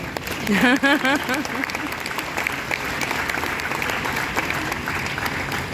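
Audience applause breaks out under a speaker's voice during a motivational talk, a dense patter of clapping that swells early and then carries on steadily beneath the ongoing speech.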